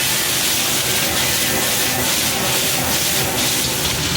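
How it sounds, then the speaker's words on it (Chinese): Bamboo shoots are stir-fried over high heat in a wok for a Chongqing pickled-cabbage pork liver dish, making a loud, dense, continuous sizzling hiss that fills the whole stretch without pause. "现在下竹笋，继续用大火开始烧。"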